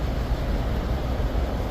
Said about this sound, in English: We started the truck up.